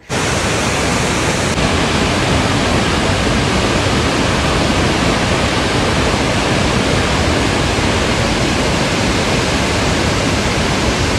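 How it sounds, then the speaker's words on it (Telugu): Victoria Falls in Zambia roars as a dense, unbroken wall of crashing water, loud and steady throughout, with no voices over it. "ప్రపంచంలోనే అతిపెద్ద వాటర్ ఫాల్లో ఇది ఒకటి అనమాట"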